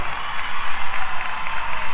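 A crowd of excited high school kids in a school gym at a televised SmackDown wrestling event, loud steady clapping and cheering in a pulsing rhythm that fills the space.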